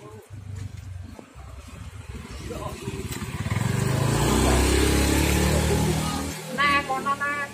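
A motorcycle engine revs up outdoors, rising from a low idle into a loud sustained drone, then easing back down with a few sputtering bursts near the end.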